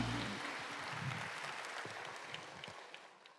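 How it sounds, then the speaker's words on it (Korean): A church congregation applauding during a Sunday worship service: broad clapping that starts full and gradually thins and fades, with a few separate claps at the end. "다시 한번 크게 박수해 주시기 바랍니다."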